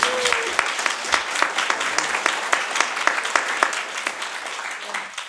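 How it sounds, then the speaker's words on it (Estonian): Sustained applause from an audience, steady clapping throughout with a few louder claps standing out. "Teeme suure aplausi."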